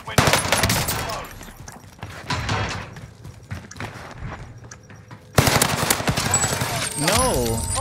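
Rapid bursts of automatic gunfire in the video game Warzone, loud and dense, with game effects and voices mixed in and a short pause before firing resumes.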